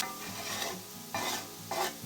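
Potatoes sizzle and crackle in hot oil, frying until crispy, with a steady frying hiss punctuated by occasional louder stirring scrapes.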